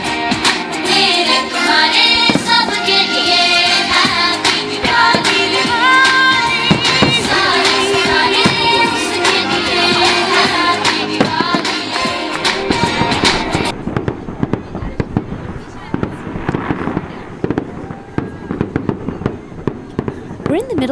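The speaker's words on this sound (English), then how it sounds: "what you hear are fireworks from Saturday night in Shawnee" Fireworks at a Diwali celebration outside a Hindu temple in Shawnee, on a Saturday night, crackling and popping in dense rapid bursts under music and talk, then thinning to scattered louder bangs near the end.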